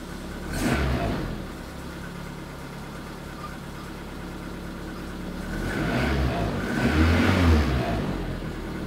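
A car engine idles after its whole ignition system was replaced, running rough at a steady mid-level with a couple of swells where it revs slightly, heard close up with no voices.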